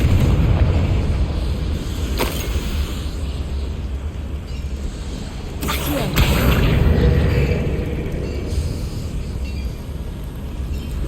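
The Confringo fire spell in Hogwarts Legacy, cast inside a goblin mine, goes off as loud booming blasts over heavy low rumble, with sharp cracks standing out at intervals through a constant roar.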